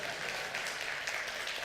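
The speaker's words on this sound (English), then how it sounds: "any clapping or," A small audience claps faintly and briefly in a conference hall, a soft scattered patter of hands with no talking over it.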